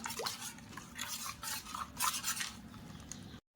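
Watermelon juice with sugar is stirred with a spoon in a container, soft irregular clinks and swishes close by and fairly faint, ending in a brief silence.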